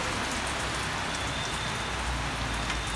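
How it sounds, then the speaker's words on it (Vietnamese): Heavy rain pours steadily onto a rooftop garden area of a bonsai and ornamental tree collection, a dense, even hiss of drops filling the scene with no voices. "Ôi trời ơi, mưa to rồi."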